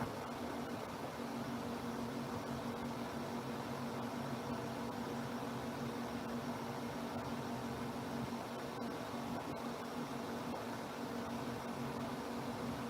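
A JPX 9000 BTU portable air conditioner runs inside a van, its fan producing a steady, even whir and broadband hiss with a faint low hum, unchanging throughout and with no voices.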